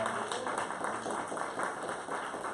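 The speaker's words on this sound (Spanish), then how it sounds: "Denle un fuerte aplauso al Señor esta mañana, hermano." A church congregation applauds during a Spanish-language service, a dense, steady wash of many hands clapping close by with no gaps, faint voices mixed in.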